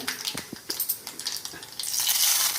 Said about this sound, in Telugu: పోపు గింజలు వేసినమ్మా కరివేపాకు బంద్ చేసి వేస్తా